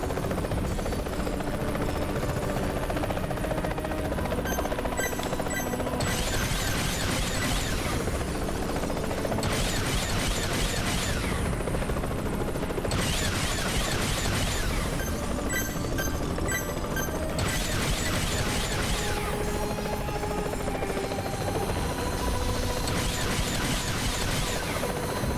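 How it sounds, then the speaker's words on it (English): Helicopter in the video game Earth Defense Force 2025, a steady rotor and engine drone running the whole time, mixed with bursts of weapon fire and mechanical clatter from the game. "Does this helicopter do a bunch of damage?"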